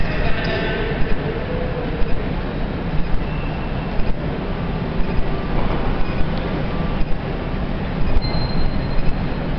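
Train at Berlin Hauptbahnhof, a steady broadband rumble of rail and station noise with periodic clacks and short tonal squeals, heard up close alongside a speaking voice.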